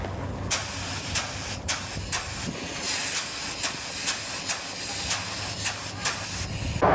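Spray paint hissing onto the one-piece front end of a VW Baja Bug, a close, steady aerosol spray with a few brief pauses and pulses over about seven seconds, no talking.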